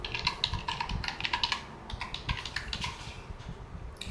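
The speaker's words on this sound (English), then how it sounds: "just going to type the password quickly" Quick bursts of keystrokes on a computer keyboard while a password is entered, close and fairly quiet, in uneven clusters with short pauses and no talking.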